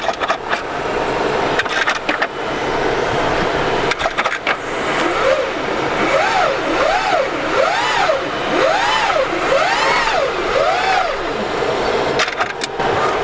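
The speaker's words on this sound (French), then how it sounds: "les pignons qui se cherchent en fait à chaque fois, et le moteur électrique qui fait ce petit bruit" A Peugeot 308 Hybrid 195 e-DCS7 held on the brake gives repeated rising and falling electric motor whines over a low mechanical hum, with faint clicks and clunks of gearbox gears at the start and end.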